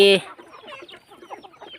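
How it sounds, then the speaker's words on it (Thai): A fighting rooster clucks at close range, starting with a loud call that quickly drops into softer, scattered clucking and bird noises. "อ้ามาเบิ่งไก่"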